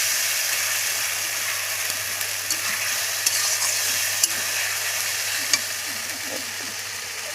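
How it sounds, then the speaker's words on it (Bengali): Ginger-garlic spice paste stir-fried with a splash of water in a pan: a steady, fairly loud sizzle and hiss throughout, with occasional sharp scrapes and clicks from stirring. "একটু জল দিলাম মশলাটা ভালো করে কষে নেব।"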